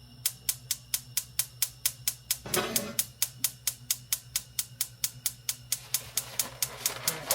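A gas stove igniter clicks rapidly and regularly about four times a second, close and crisp, with a brief soft whoosh partway through as the burner catches.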